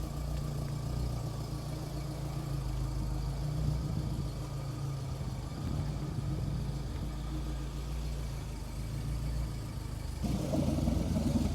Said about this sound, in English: Just listen to the burble of that engine.